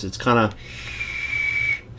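A Wismec Theorem atomizer at 52 watts gives a thin, steady airflow whistle for about a second as air is drawn through it, following a brief spoken word.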